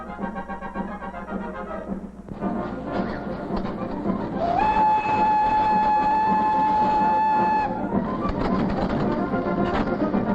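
An early 1829 Lafayette long-boilered steam locomotive rumbles along the rails, and a sustained whistle tone rises in the middle and holds for several seconds before the running noise returns.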